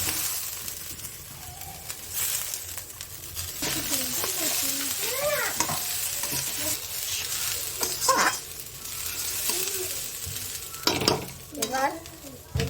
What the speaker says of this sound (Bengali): আর আমি কড়াইশুঁটিগুলো দিয়ে দিচ্ছি এর মধ্যে।